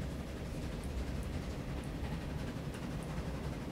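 Trains run in the railway building game Transport Fever, a steady low rumble of rolling rail traffic with faint clicks, continuous and even throughout.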